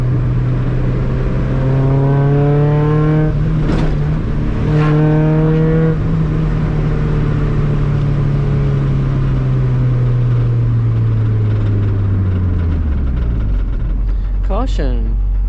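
Mazda NA Miata with a limited-slip differential, engine droning steadily in second gear while sliding, pitch rising and falling with throttle and winding down near the end, recorded from inside the car, with someone talking over it.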